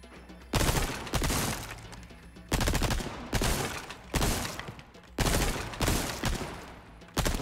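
TMP submachine gun firing in Resident Evil 4 Remake: three loud bursts of rapid automatic fire, each lasting about a second or more, separated by short pauses, close and dominant.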